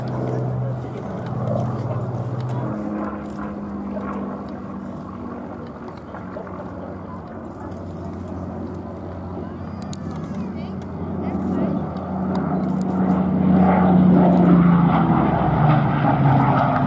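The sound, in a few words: Hawker Hurricane Mark I aircraft engine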